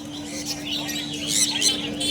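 Pet birds for sale at the Serampore bird market chirp in quick, high, overlapping bursts, moderately close, over a steady hum and background murmur.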